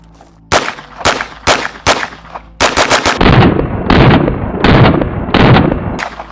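A SIG MPX submachine gun fires at a range, starting with single loud shots spaced apart, then a quick burst, followed by several sustained bursts of rapid automatic fire, close and sharp.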